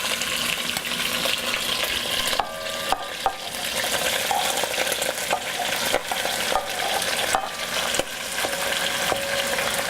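Vegetables sautéing in a pan for oxtail, a steady broadband sizzle with scraping stirs and clinks of a utensil throughout, close and fairly loud, no talking.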